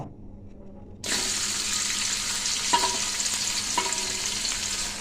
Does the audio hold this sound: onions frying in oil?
yes